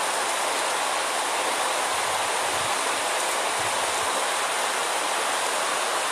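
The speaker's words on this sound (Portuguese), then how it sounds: "Aí já são aí umas 10 horas de chuva caindo em Macaúbas e região." Heavy rain falling on the town of Macaúbas in Bahia, Brazil, a constant loud broadband hiss with no breaks or voices, steady throughout.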